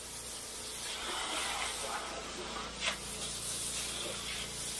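A pressure washer's steady hissing spray runs continuously at moderate volume while rinsing mud off an air-conditioning unit, with a faint brief knock partway through.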